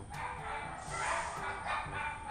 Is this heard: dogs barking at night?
yes